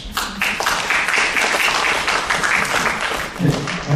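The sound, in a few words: audience applause after a presentation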